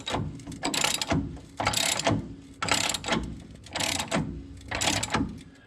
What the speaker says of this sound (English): I grabbed a 1/2" ratchet and a 15/16 socket, and I'll put it on the nut here, and I'll start compressing it slowly